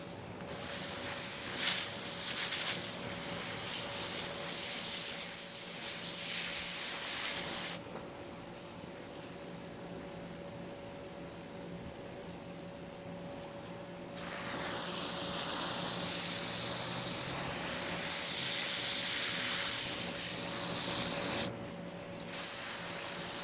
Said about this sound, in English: let me water these in